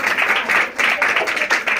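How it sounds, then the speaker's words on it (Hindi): Applause from a church congregation during a sermon: dense, steady clapping that rises and falls in waves for the whole moment, fairly loud and close. "इनके लिए तालियां बजाएं जरा"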